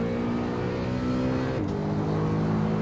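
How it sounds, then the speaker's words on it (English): A BMW E92 M3 in Assetto Corsa revs hard with a loud, steady engine drone that climbs in pitch, dips briefly at a gear change, then keeps pulling, with no voices over it. "Rev all the way out to third gear."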